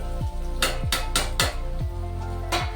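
Spatula scraping and tapping in a pan as ginger, garlic and coriander are stirred with garam masala, turmeric and salt: several sharp clanking strokes in an uneven rhythm over a steady low hum, close and fairly loud.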